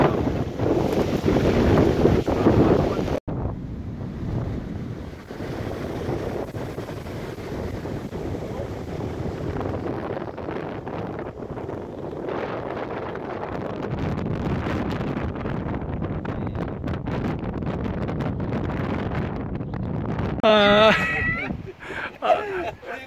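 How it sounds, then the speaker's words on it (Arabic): Steady wind buffets the microphone outdoors on a seashore at Cap Barbas, with a low rumble, while people talk intermittently and a bird chirps briefly near the end. "شويه الريح"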